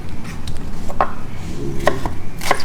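A knife cuts thin slices from a firm onion for a shrimp salad, giving a few sharp chopping taps on a board spread across a few seconds over a steady background hum.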